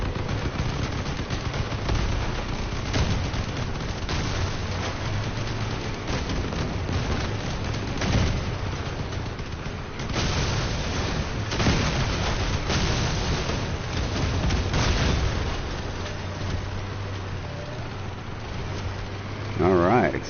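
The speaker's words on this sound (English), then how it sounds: "Alright, explosions." Dense bursts of game gunfire and booming explosions roll on continuously, loud and chaotic, with a voice speaking now and then over the din.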